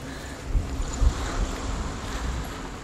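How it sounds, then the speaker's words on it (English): Waves and rolling thunder in the video game Hellblade: Senua's Sacrifice, a continuous low rumble with surf-like wash and a few soft swells, steady and moderately loud throughout. "just you hear waves and that rolling thunder"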